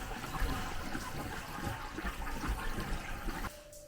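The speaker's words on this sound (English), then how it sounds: "Oh, I hear water." Water rushes steadily through household plumbing from a faucet turned on upstairs in an off-grid all-electric home with a solar water heater, a continuous broadband hiss and gurgle that cuts off abruptly near the end.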